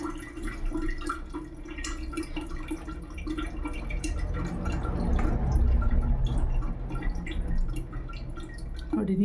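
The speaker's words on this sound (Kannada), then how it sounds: "ನೀರು ಆನ್ ಮಾಡ್ತೀನಿ ನಾನು." Fresh water flows noisily into a front-load washing machine through its rear hose connection, a continuous splashing rush that swells toward the middle before easing off at the end.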